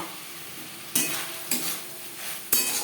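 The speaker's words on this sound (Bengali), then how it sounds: "এই পর্যায়ে দিয়ে দেব ভেজে রাখা চিংড়িগুলো।" Fried prawns go into a spice masala simmering in oil for a Bengali lau chingri, bringing a steady close sizzle with three sharp hissing bursts as they land and are stirred. No talking.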